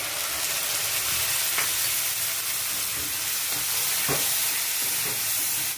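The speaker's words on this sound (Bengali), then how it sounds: "এখন দিয়ে দিচ্ছি আদা পেঁয়াজ রসুন কাঁচা লঙ্কা পেস্ট" Ginger, onion, garlic and green chili paste fries in hot oil with lightly browned onions for a prawn malai curry, giving a steady close sizzle broken by a few sharp stirring clicks.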